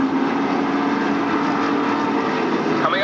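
Pro stock race cars roaring around the Stafford Speedway oval, a loud continuous engine drone filling the air, with a rising whine near the end.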